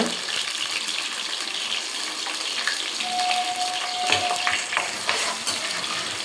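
Curry leaves go into hot oil with small sambar onions in a home kitchen. A loud, continuous sizzle and crackle of frying runs through the whole stretch, with a few brief stirring knocks.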